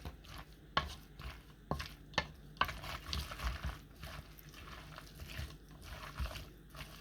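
Pear, cranberry, onion, mint and collard greens salad being tossed and mixed in a bowl, with several sharp clinks of the utensil against the bowl followed by softer wet stirring and rustling, close and moderately loud.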